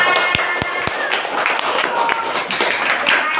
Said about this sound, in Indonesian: Tepuk tangan buat Aisyah.